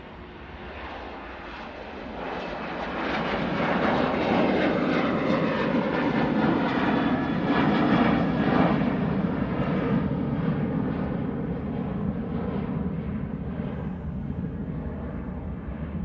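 A Ryanair jet taking off for Prague, its engine roar swelling from a distant rumble to a loud broad sustained thunder, then slowly fading while still strong.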